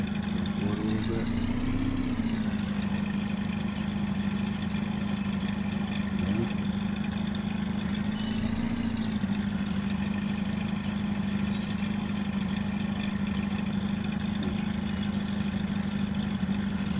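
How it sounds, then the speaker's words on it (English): Tractor in a farming game with a steady droning engine that holds an even hum, swelling slightly twice as it moves forward, with someone talking under it. "let me switch tractors, switch bodies, go forward a little bit"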